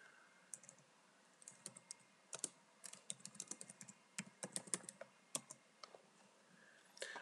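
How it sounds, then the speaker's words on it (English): Quiet, close keystrokes on a computer keyboard, an irregular run of light clicks and taps in bursts with short pauses, heard alone without talking. "So if I come in here and I edit this document, and I type in here, Jane, edit."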